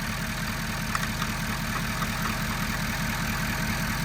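A Ford 6.7 Powerstroke diesel pickup, one with a major oil-burning problem, idles in a steady, even low rumble with a regular fast pulse. It stays close and constant throughout, with no talking.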